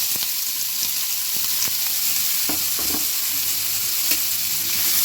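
Onions and tempering of mustard seeds, urad dal and curry leaves sizzling steadily in hot oil for Tamil onion pachadi, with close scraping stirs and a few sharp crackles, no talk.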